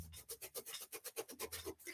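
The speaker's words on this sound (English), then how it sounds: "I'm just going to take my tack cloth across my sandpaper to get the black dust off" A tack cloth wiped back and forth over sandpaper to lift black paint dust during a snowman craft project, giving a steady run of about a dozen soft, close rasping strokes in even rhythm, with no talking.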